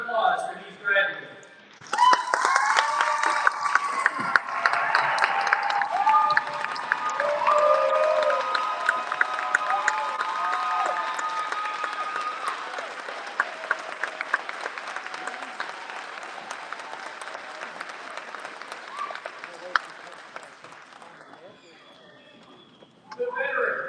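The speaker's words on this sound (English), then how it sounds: "I ask all who are able to stand to offer a round of applause for these graduates." A graduation audience gives sustained applause that swells after a brief opening, with some cheering mixed in. The clapping slowly fades over about twenty seconds, and voices carry through it.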